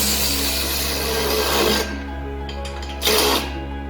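A power tool whirs steadily and loudly while tightening bolts on a turbocharged Honda CR-V's exhaust, with a steady low hum underneath and two brief surges of harsher noise near the end.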